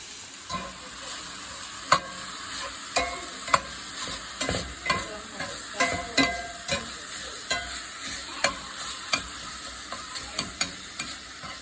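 Crumbled sausage fries in a cast iron pan with a constant loud sizzle, while a utensil scrapes and breaks it up in a regular rhythm of sharp taps about once a second, close and without talk.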